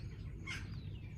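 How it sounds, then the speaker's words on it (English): Birds chirp on a farm in cold weather, a few faint, short tweets over a steady low rumble. "this farm is full of birds"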